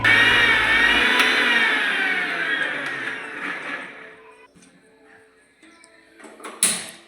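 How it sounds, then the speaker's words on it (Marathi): A mixer grinder's motor whirs loudly grinding a cooked spice paste for fish curry, then winds down and fades, followed by light clattering and a short final burst of grinding. "आता ते दळून घेते मी मिक्सीमध्ये"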